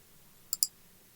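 Two quick, faint clicks of a computer mouse in rapid succession against quiet background.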